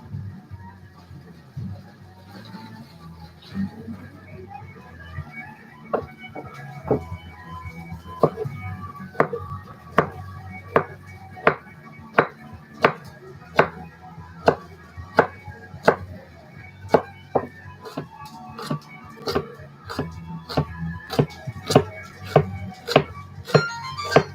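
A knife chops carrots on a cutting board in a home kitchen, producing a run of sharp, evenly spaced thuds that speeds up into a steady rhythm, close and clear over quiet background with no talk.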